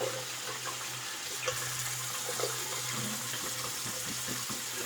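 Tap water runs steadily into a sink while a shaving brush is rinsed under it, a constant close hiss with small splashes.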